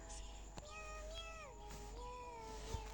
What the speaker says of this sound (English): with desperate meows.